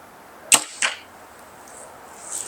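Two sharp arrow releases from a bow about a quarter second apart, each a crisp snap with a brief hiss, followed by a quiet outdoor backdrop with a faint high ring.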